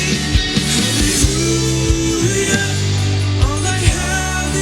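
Full-band rock worship chorus with guitars doubled on both sides, a bass line and drums, dense and loud with steady drum hits throughout.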